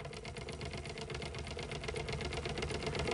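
A small boat's outboard motor runs steadily at close range, a continuous buzzing engine drone with a fast, even rhythm that holds at a constant, fairly loud level throughout.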